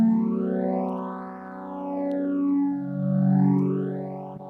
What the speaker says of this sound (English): That's just the default phaser, and the cool thing is it can go really slow.